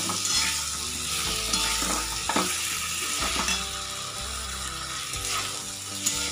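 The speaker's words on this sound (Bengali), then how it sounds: "মশলাটা দিয়ে কষাতে থাকবে, ফুলকপি আর আলু" Cauliflower and potatoes are sautéed with spice paste in a pan, a steady close sizzle broken by repeated spatula scrapes and stirring clatter throughout.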